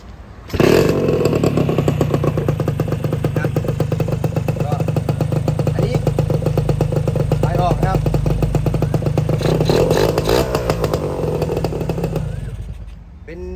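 A Honda Beat 110 scooter engine with rewired under-tank wiring starts and runs, a loud steady clattering idle that holds for over ten seconds before cutting off, with a voice faintly over it.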